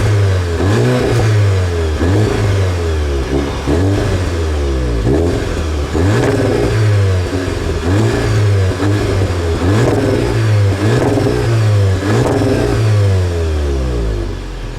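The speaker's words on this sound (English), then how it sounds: "the new, more vocal and motive exhaust system that features wider circular outlets" 2019 Seat Leon Cupra R sports exhaust with wide circular outlets, engine revved repeatedly in a loud, close rhythm of rising and falling blips over a steady idle, with no talking.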